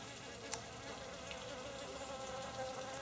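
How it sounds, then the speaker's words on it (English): Bees and other insects buzzing steadily in a forest in Japan, a faint continuous drone at a moderate distance with no speech. "There's bees, see?"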